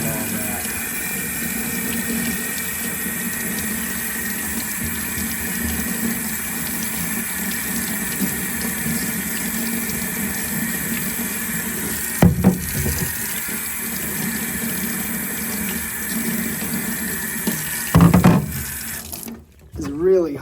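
Very hot water pours steadily from a tap over a Kawasaki ZX-4RR motorcycle brake caliper being cleaned, a constant close hiss and splash with brief louder bursts near the end.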